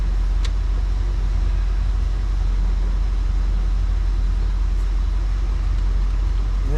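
Close, steady idle of a 1974 Ford Bronco engine, an even low drone that holds for several seconds, with a couple of faint clicks above it and no voices.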